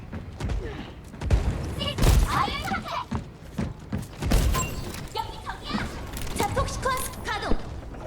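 Video game gunfire comes in rapid bursts and heavy thuds throughout, mixed with explosions and impacts, while voices talk over the combat.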